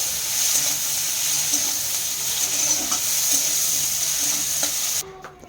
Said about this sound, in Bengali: সরষের তেলে ফার্স্টে চিংড়ি মাছের মাথাগুলো ভাজা হচ্ছে।